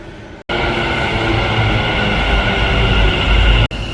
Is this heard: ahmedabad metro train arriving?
yes